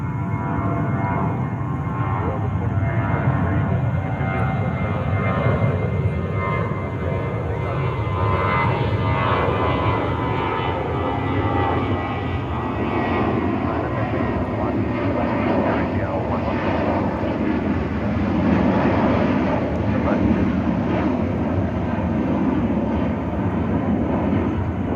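A JetBlue Airbus A320 at JFK in New York, a continuous broad engine roar at steady loudness for the full stretch, with faint radio voices mixed in.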